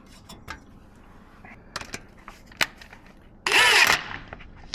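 A power tool tightens down a part on a BMW E36 during rear main seal work, with one brief loud whirring burst of under a second following scattered clicks and taps.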